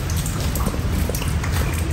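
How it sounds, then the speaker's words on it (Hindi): Heavy rain pours steadily in Mirpur, Azad Kashmir, a dense, unbroken hiss of drops with a low rumbling wash underneath, loud and close throughout with no pauses. "बारिश लगी हुई है, तेज है बारिश।"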